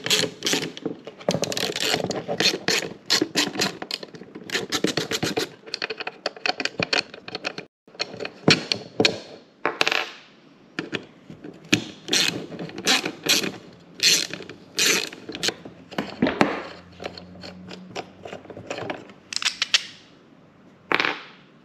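Screws come out of a car's accelerator position pedal, sharp clicking and ratcheting clatter in rapid irregular bursts, close up, with short pauses between runs.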